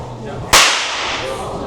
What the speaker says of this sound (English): This is how we crack the whip.